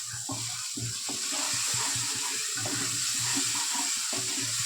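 Rupchanda pomfret fish curry with spices simmering and sizzling in oil in a pan, a steady close bubbling crackle with soft stirring scrapes throughout and no voices.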